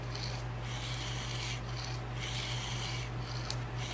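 A Havok Hoss 150 knife blade is stroked on 240-grit abrasive against a dowel, making steady, continuous close-up rasping strokes over a low hum, with no talking.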